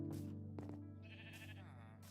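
A Minecraft sheep bleats in a single wavering, nasal call, close and clear over a faint steady background drone.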